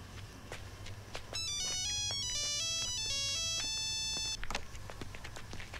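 A phone in a Hindi movie scene rings with a bright electronic melody of repeating tones for about three seconds over faint background noise, with sharp clicks before and after.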